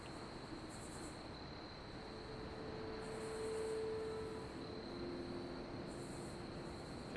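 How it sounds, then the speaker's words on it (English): Faint crickets chirp in a nighttime game world, soft pulsing bursts repeating every few seconds over a steady hiss, with a thin high whine running underneath and no voices. "Okay, I hear crickets."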